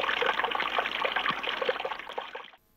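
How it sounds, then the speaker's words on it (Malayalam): Tap water running after a household pump is switched on: a close, steady trickling splash that holds for over two seconds, then cuts off abruptly. "ശരിയായ അച്ഛാ, വെള്ളം വന്നു."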